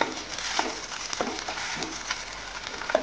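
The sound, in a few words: green chili, garlic and ginger paste frying with onion in oil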